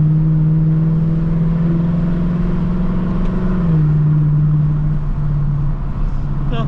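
A Lexus LC 500 cruises along a palm-lined San Diego street, its engine a steady, loud low drone inside the cabin with a smooth pitch shift as speed changes and continuous road rumble.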